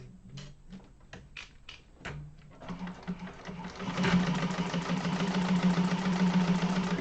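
A sewing machine bastes and topstitches a sling bag, starting with a few separate clicks and short stitch bursts, then building into a steady, louder run of humming, rattling stitching.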